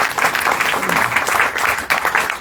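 Audience applause from a small crowd at an Italian book presentation, steady clapping filling the whole moment at close range.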